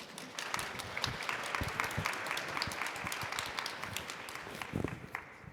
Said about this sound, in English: What about a round of applause here?